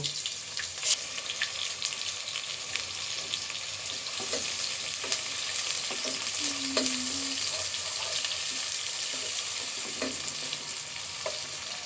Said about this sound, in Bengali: এখানে আমি সরিষার তেল গরম বসিয়েছি। এখন দিয়ে দিচ্ছি পেঁয়াজ। আমি পেঁয়াজটা একটু ব্রাউন করে ভেজে নেব।